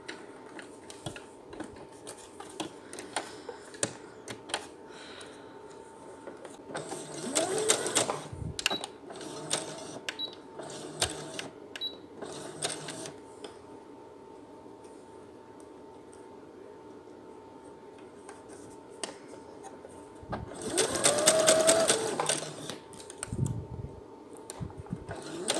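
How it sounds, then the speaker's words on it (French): Sewing machine stitching a seam on a fabric face mask, two distinct bursts of rapid mechanical whirring separated by a quieter pause with faint handling noise. "je vais venir faire une couture"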